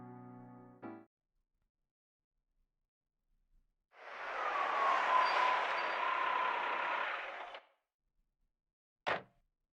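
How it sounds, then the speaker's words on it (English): Car door shutting as a sound effect in the visual novel game Steins;Gate: a single muffled thud near the end, preceded by a low rumbling engine-like growl, faint and isolated. "I heard a car door shut."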